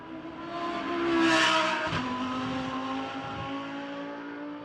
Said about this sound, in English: the first car onto a flying lap is Luca Engstler's Lamborghini then, as he goes across the timing line